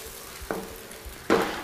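Coconut milk curry with onions, garlic and ginger simmers in a pan, a faint bubbling hiss punctuated by two soft scraping stirs of a spoon.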